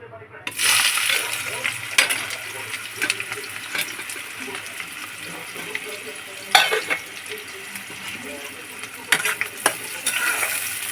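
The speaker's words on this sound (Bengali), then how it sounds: "এইবার আমি কড়াইতে প্রথমে দেব পেঁয়াজটা" Onion dropped into a hot wok and frying, a steady bright sizzle with clinks and scraping from stirring a utensil against the metal, moderately loud and close.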